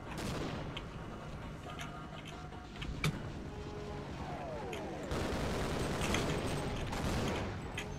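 Explosions and gunfire in the game Half-Life, heard as a continuous dense rumble with a sharp bang near the middle and heavier blasts toward the end, alongside mechanical whirring.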